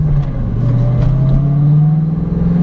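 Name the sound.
modded 2001 Mustang Bullitt accelerating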